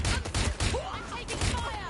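Rapid bursts of gunfire in the Watch Dogs Legion video game, several sharp loud shots in quick succession with brief pauses between volleys.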